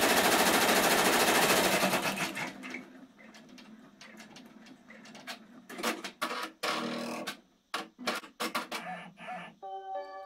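Embroidery machine stitching an appliqué design onto a shirt, a dense rapid mechanical rattle at first that breaks into irregular bursts of stitching and pauses, close and fairly loud with no voices.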